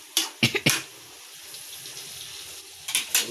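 Tap water splashes from a kitchen faucet in short bursts, a few quick gushes near the start and two more toward the end, with quieter trickling between them.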